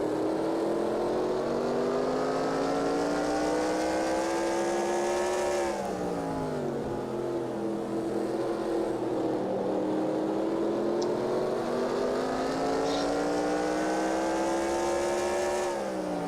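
Race cars from NASCAR Racing 2003 passing in lap traffic, a sustained loud engine drone whose pitch rises and falls as cars sweep by and shift gears, continuous without talk.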